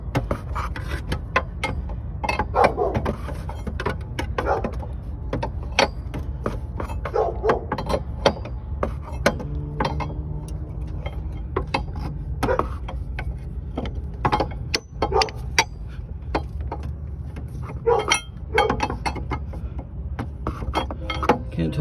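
Metallic clicks and clinks of a wrench loosening the fan clutch on a 2005 Chevy Trailblazer during water pump replacement, an irregular series of close taps and ratcheting over a steady low engine-bay hum, with no talking.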